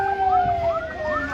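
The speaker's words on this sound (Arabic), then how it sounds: "سياره الاسعاف لنقل المصابين، نقل الموتى." Ambulance siren at the scene of a serious three-car road crash near Khouribga, Morocco, its wailing tone sweeping up and down steadily and fairly loud, with no talk.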